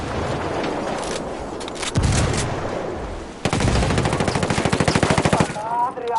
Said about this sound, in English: algo acaba de estallar ahí